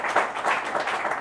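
Audience applause following a talk during a performance management tour, a short burst of many hands clapping with fairly steady, dense texture and no voices.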